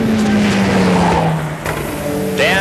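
Sports 2000 race cars on the final lap of a national championship race, engines roaring loudly near the microphone with a steady tone that fades, then a sharp rising whine as another car passes.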